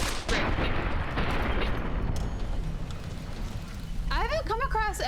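Gunfire in the video game Fallout: New Vegas comes as a dense roar of shots for about two seconds, then tails off before a voice speaks.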